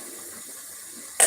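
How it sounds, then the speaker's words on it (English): Turkey and beef broth poured into a pot of mixed vegetable jollof rice, a steady liquid pour with a soft splash and a louder burst at the very end. "I'm adding in my turkey and beef broth"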